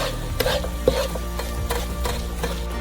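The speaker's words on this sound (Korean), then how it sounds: "양파를 볶아줘요." Onions stir-frying in oil in a frying pan on a gas stove, a steady low sizzle with occasional scrapes and light knocks of a utensil against the pan.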